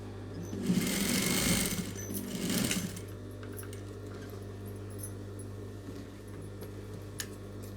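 A sewing machine stitches blouse fabric, with two bursts of fast rattling stitching close up, followed by a quieter steady motor hum with faint ticks.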